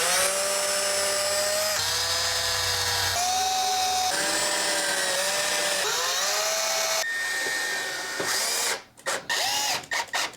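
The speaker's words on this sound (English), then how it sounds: "I'll put some screws in it and we're gonna call it good" A power drill drives screws into a wooden 6-foot raised planter box, its whine coming in several close bursts that each rise in pitch, followed by stopping and loud handling knocks.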